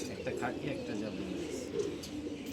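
Pigeons coo in low repeated murmurs near a black-necked panel pigeon chick, with someone talking over them throughout.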